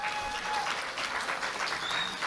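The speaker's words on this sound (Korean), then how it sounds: "큰 박수를 한번 보내주시기 바랍니다" Party members applauding at a Liberty Korea Party convention in Jeju, sustained clapping from a large indoor crowd, steady and fairly loud throughout.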